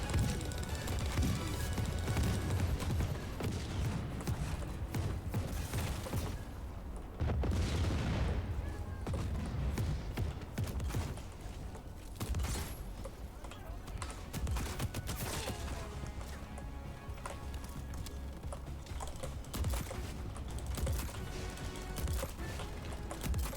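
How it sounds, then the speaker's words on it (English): Mortar fire and explosions in the video game Just Cause 4, a dense run of booms and blasts under a constant low rumble, with one heavier burst standing out partway through. "The amount of mortars here is ridiculous."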